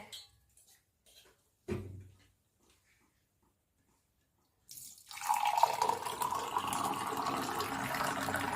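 Filtered cucumber and ginger juice pours into a glass, a steady liquid splash starting after some faint kitchen handling noises and continuing to the end.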